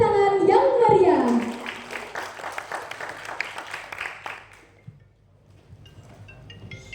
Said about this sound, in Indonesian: Berikan tepuk tangan yang meriah.